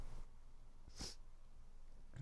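A single short, sharp sneeze from a person with morning allergies, close and fairly quiet, standing out briefly against a soft background hum.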